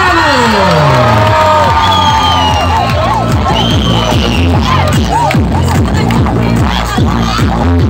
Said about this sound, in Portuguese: eu também quero palmas, gritos para ela, Tauane da Silva Melo!